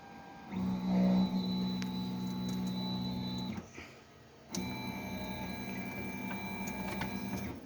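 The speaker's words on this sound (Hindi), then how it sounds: "अब हमारे प्रिंटर ने इसका डिज़ाइन प्रिंट कर दिया है।" A desktop 3D printer printing a frame part runs with a steady electric motor whine and faint ticking stepper movements, then goes quiet for a moment before humming along again at a lower level nearby.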